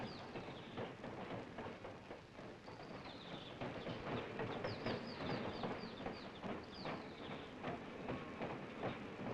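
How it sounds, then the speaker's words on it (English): A loud, continuous rumble of a train rolling in, with high squealing and clattering sounds rising over the steady noise; no voices. "Then the huge engine pulls in."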